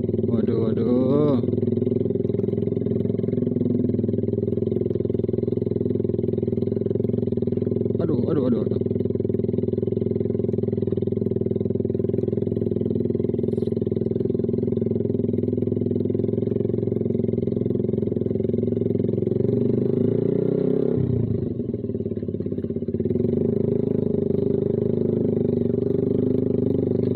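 A Suzuki Satria FU motorcycle fitted with a Kau Mahachai exhaust runs at a steady, loud, close idle. It gives a couple of brief revs, and a deeper throttle blip comes near the end.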